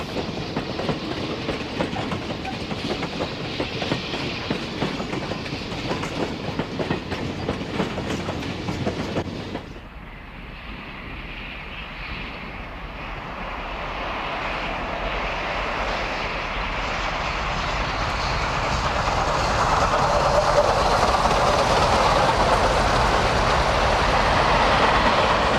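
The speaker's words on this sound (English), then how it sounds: "Departing Denver, the 3718 meets an inbound freight waiting to enter the yard." Union Pacific 3718 steam excursion train departing Denver past a waiting inbound freight: steady rolling rail clatter and rumble, then a sudden drop to a quieter rising roar as the train passes and pulls away.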